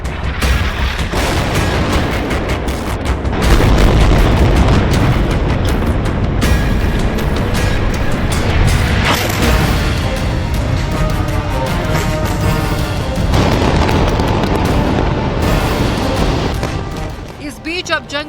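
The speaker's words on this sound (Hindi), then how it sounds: "इजराइल की ओर से भी ताबड़तोड़ बमबारी की जा रही है।" Dense, continuous barrage of booming blasts and crackling gunfire-like bursts from bombing in the Israel–Palestine war, loud and sustained throughout with a voice speaking over the chaotic rumble.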